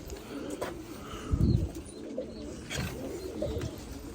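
Pigeons coo inside a crowded coop, soft low throaty calls repeating close by in short bursts, with a few faint chirps and rustles around them.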